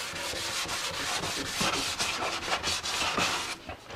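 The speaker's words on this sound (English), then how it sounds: "So now one of the final steps here is just hand sanding back over everything." Close, rhythmic scratchy rubbing of sandpaper on a soft block over wood, repeated back-and-forth hand strokes at a steady pace with no talking.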